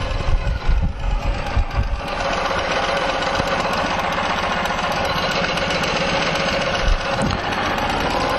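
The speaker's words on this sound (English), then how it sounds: "we're riding our Ural motorcycles to Florida" Ural motorcycle engine running while riding on the road, a steady loud mechanical drone with wind rush that holds without a break for several seconds.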